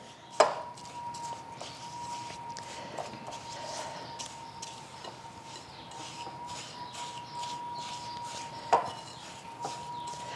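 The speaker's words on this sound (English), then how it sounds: "So I'm just going to mix the crust together." A spoon works coconut graham cracker crust crumbs into melted butter in a bowl, giving a faint, steady scraping with two sharper clinks against the bowl near the start and end.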